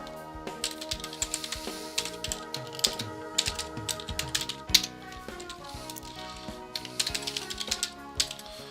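Fast, steady clatter of a computer keyboard as an email address is typed, close and continuous with irregular bursts of keystrokes and no talking.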